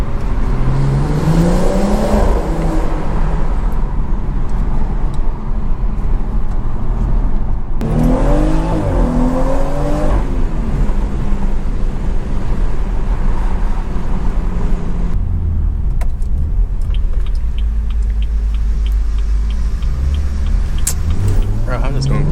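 A BMW 340i accelerating through gears on a road drive home, engine note rising in repeated pulls with loud, close intake and exhaust sound, punctuated by shifts and a lull near the end.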